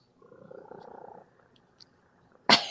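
A Siamese cat purring close by for about a second, a soft rhythmic rumble that stops, followed by a brief quiet gap and then a sudden sharp burst of another sound.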